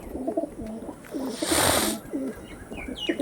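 Pigeons of Andhra, Madras and similar fancy breeds, including birds with purple-red feet, coo in a repeated low rhythm close by, with a brief burst of rustling or wing noise midway.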